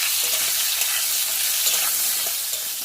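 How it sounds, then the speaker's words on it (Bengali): Pointed gourd frying in a pan, a dense close sizzle with light scraping strokes of a spatula as the pieces are stirred, continuous and without voices. "আর এইভাবেই ভাজলাম পটলটা"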